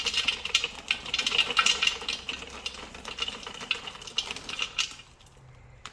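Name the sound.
Thermomix TM6 kitchen machine running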